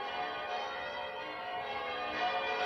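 Church bells begin to ring as a sound effect in a children's mystery audiobook: a steady, faint, sustained ringing tone with overlapping resonance and no speech.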